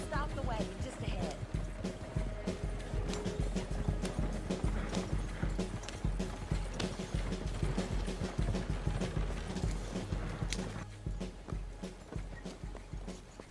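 A horse-drawn wagon in Red Dead Redemption 2 rolls along with a steady clip-clop of hooves, creaking wheels and rattling harness, while characters talk over it.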